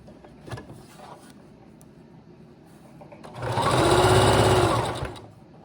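A sewing machine runs in a single close, loud burst of about two seconds while stitching trim onto a shorts jumpsuit, after quiet handling noises.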